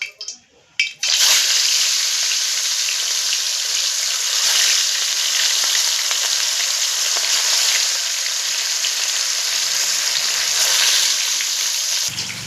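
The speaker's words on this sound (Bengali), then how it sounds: "তেল গরম হয়ে গেছে, এবার মাছগুলো ভাজা হবে।" Katla fish fries in hot oil, a loud, steady sizzle that starts abruptly after a brief clatter and holds close and continuous to the end, with no talking.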